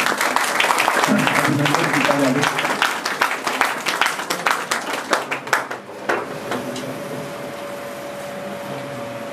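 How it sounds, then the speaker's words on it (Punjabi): An audience at a college function in Amargarh gives a burst of applause that starts dense, thins into scattered claps and dies away after about six seconds, leaving a faint steady hum while a voice speaks briefly. "ਸਮਾਗਮ ਤਾੜੀਆਂ ਦੇ ਨਾਲ ਪਲੀਜ਼"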